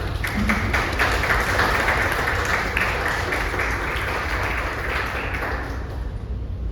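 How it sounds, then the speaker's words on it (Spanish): A conference audience claps steadily for several seconds to welcome a guest speaker, a dense, even wash of applause that tapers slightly toward the end. "Vamos a recibir a nuestra invitada con un fuerte aplauso."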